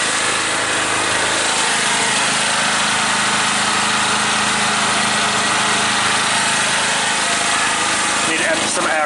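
A Bohmer-AG 2700W petrol generator runs steadily under load while powering an air compressor, giving a loud, continuous engine drone with broad mechanical noise throughout.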